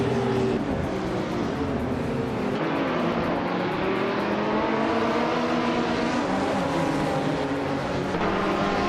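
Race car engines in a video game at Barber Motorsports Park, including a 2015 Porsche 718 Cayman GT4, droning loudly and continuously as the pack pulls away from the start, with shifting layered engine tones.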